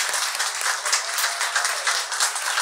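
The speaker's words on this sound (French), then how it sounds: "Alors, on les applaudit tous," A church congregation applauds fathers with brisk, continuous clapping, an even crackling burst that stays loud throughout.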